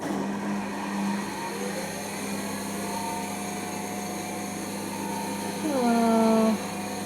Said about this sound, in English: How is the whole dryer like shaking?